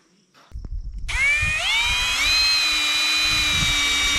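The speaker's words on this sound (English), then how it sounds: "Just countersinking these holes so that we'll be able to put the screws in" A power drill countersinks screw holes during window installation in an off-grid passive house, spinning up after a short pause into a loud, sustained whine that shifts pitch slightly as it bites into the material.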